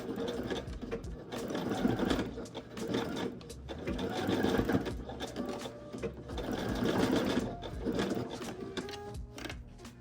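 A sewing machine stitches a patchwork denim trench coat in a fast, steady rattling run of needle strokes, close and moderately loud, pausing slightly between bursts.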